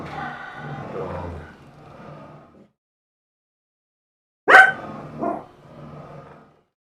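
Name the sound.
dog barking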